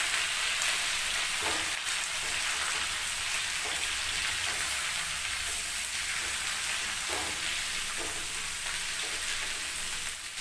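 Onions and chilies fry in hot oil, producing a loud, steady, close sizzle that fills the whole stretch, with occasional soft taps of stirring.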